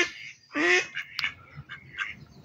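A white Muscovy duck lets out a loud nasal call followed by several softer, shorter quacks, close by on a farm with a low background hum.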